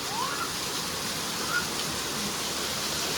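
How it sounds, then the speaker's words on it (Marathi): Heavy rain pours down in a dense, constant wash of noise with no breaks, loud and close throughout. "लय पाऊस पडतोय."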